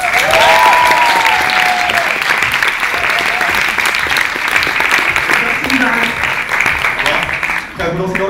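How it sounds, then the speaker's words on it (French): An audience at a French stage show breaks into loud, dense applause for a competition contestant, sustained clapping filling the room close up before tapering off near the end. "un tonnerre d'applaudissements pour Mr."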